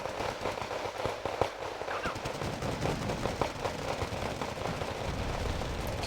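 Battlefield gunfire in the real-time strategy game Wargame Red Dragon, with rapid crackling bursts of machine gun fire and scattered sharp shots over a busy rumbling background, moderately loud and continuous.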